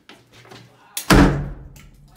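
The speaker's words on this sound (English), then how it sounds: "Door slammed again." A heavy door in an old hospital slams shut with one loud, sharp bang and a short rumbling decay, preceded by faint quiet voices.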